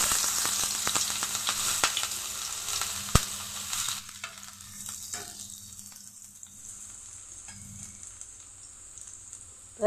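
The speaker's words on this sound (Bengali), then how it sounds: "দিয়ে দিচ্ছি পেঁয়াজ কুচি," Chopped onion hits hot oil in a wok, giving a loud burst of crackling sizzle with sharp stirring clicks that gradually settles into a quieter, steady frying hiss.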